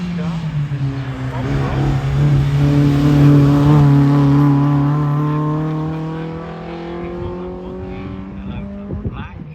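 A race car accelerates up the Harewood hillclimb course, its engine note rising and sweeping through gears for several seconds, loud and close before fading slightly, with a commentator talking over it.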